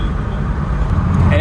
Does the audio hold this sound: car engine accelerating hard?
yes